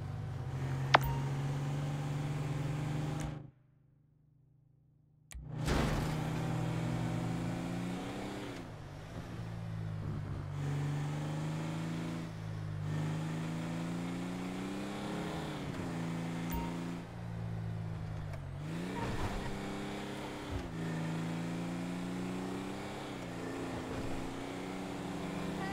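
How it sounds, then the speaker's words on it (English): A garbage truck in the video game GTA 5 drives with a steady droning engine, briefly cutting out to silence before resuming and shifting pitch as it moves along. "That's the garbage truck."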